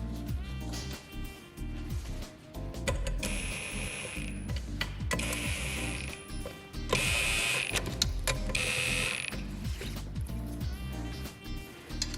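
Ratchet wrench clicking in rapid bursts while tightening bolts on the lower intake manifold of an R32 Skyline engine during a rebuild, close and fairly quiet, with metallic clinks between strokes.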